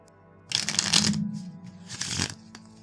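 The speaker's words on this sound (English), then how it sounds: "I'm going to shuffle the cards back in" Playing cards shuffled during a tabletop solo game, two distinct riffling bursts close to the microphone, the first longer and the second shorter, separated by a brief pause.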